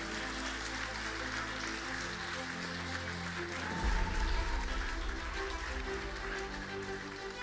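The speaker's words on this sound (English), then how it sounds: "Let's give another round of applause to Leonor" Steady audience applause rolls on like a dense patter of hands for a student at a school English Day event, with a low hum and a rumbling swell partway through.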